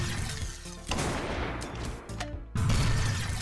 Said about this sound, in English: I'm shooting the wall.